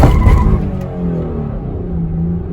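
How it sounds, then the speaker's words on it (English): A 300 hp Kia van accelerates hard from a stop, its engine roaring loud and close while the tires spin and squeal, the pitch settling into a steady drone. "Just fucking stop and give it gas and it just spins the fucking tires."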